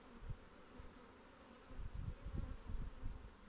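Honeybees in an open beehive give off a low, continuous buzz that swells and thickens partway through, nearby and fairly quiet, with no voices.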